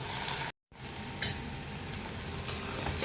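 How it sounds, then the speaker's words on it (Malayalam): Bitter gourd and grated coconut stirred together in a pan, a steady close scraping and sizzling texture broken by a brief silent gap, with soft clinks of the spoon against the pan. "തേങ്ങ കൂടി ചേർത്തതിന് ശേഷം നല്ലതുപോലെ ഇളക്കി യോജിപ്പിക്കാം."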